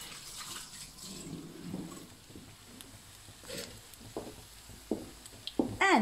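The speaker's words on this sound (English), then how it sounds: "Let me just wash my hands." Tap water runs in a kitchen while hands are washed, a soft steady stream with small splashes and squishy rubbing, rising to a brief louder splash at the end; no one speaks.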